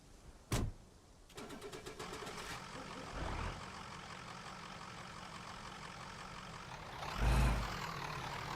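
A truck engine in the video game DayZ turns over and settles into a steady running hum, with a sharp click early on and a brief surge near the end.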